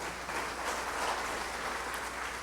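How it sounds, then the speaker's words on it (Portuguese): A congregation at a Portuguese-language church talk applauds, a soft distant wash of many hands clapping steadily throughout, with a low hum beneath. "Pode aplaudir Jesus, aplauda Ele."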